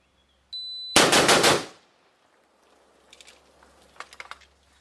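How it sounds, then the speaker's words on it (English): Four rapid, very loud shots from a Norinco AK-47 rifle fired at close targets on a range, closely spaced in one quick burst, followed by faint clinks and rattles afterward. "Alright, so 4 rounds, speed test, as quick as we can at 10 yards on 2 targets."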